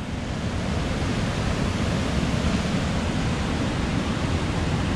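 A mountain waterfall near the Alibek glacier in Dombai rushes in a steady, dense roar, heard from the top of the falls, continuous and fairly loud with no voices.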